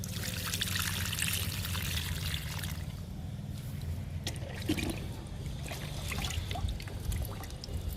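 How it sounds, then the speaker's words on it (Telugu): Liquid fertilizer pours from a container onto a potted pink vinca plant, a steady close trickle and splash that thins out partway through, leaving softer dribbles and drips. "పింక్ కలర్ వింకాకి లిక్విడ్ ఇస్తున్నాను"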